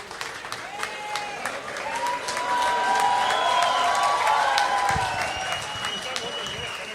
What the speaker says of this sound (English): Please give a standing ovation for him.